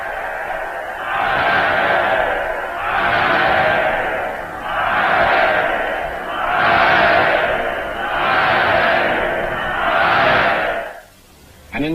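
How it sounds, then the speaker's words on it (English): A large crowd roars and cheers in repeated swelling waves, about six surges each lasting around two seconds, loud and reverberant as at a big event, then cutting off abruptly. "Only 300 miles away, people were cheering another kind of event"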